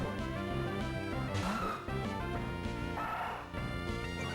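Zigzagoon's Growl cry plays during a battle in Pokémon Sapphire, an electronic chirping, yapping call in a few bursts over looping game music.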